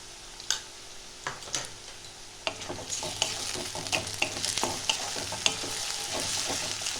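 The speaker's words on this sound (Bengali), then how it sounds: "আদা রসুনটাও ভালো করে একটু ভাজতে হবে।" Ginger-garlic paste frying with lightly browned onions for mutton kheema ghugni, a soft sizzle that grows fuller midway, punctuated by sharp clicks of a spoon stirring against the pan.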